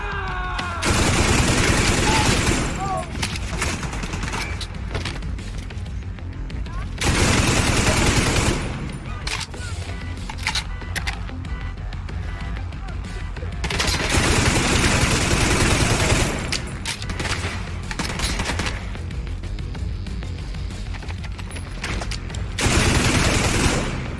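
Repeated bursts of automatic gunfire from a weapon in the shooter video game The Division 2, loud and close, coming in several sustained volleys separated by quieter stretches of ambient game noise.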